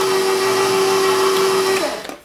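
An electric mixer whirs steadily at high speed through cake batter, a loud constant motor drone close by that winds down and stops near the end.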